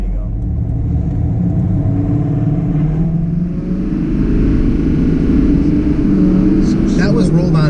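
Deleted LML diesel pickup truck accelerating hard from a roll, a loud steady low engine rumble and drone building throughout, with people talking over it inside the cab.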